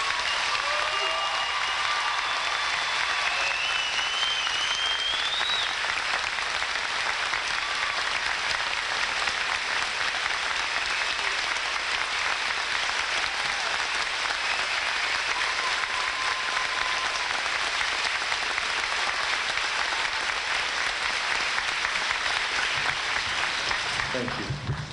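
Sustained applause from a large audience fills a high school graduation ceremony honoring Air Force ROTC students, a steady dense clapping that holds evenly for the whole stretch with faint voices mixed in.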